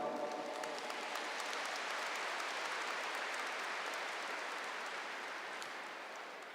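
Continuous dense applause from a large Catholic audience at a priest's talk, a steady wash of many hands clapping at fairly even loudness that tapers slightly toward the end, with no talking over it.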